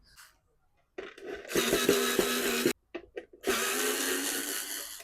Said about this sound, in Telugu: ఈ పక్కన రెండు స్క్రూలు కూడా ఓపెన్ చేయాలి.